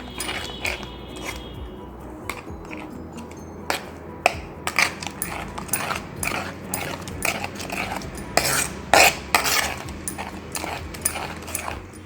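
A spoon stirs instant mawa mixed with a teaspoon of cardamom powder, a homemade gujiya filling, giving close, irregular scraping clicks and taps against the vessel with no talk.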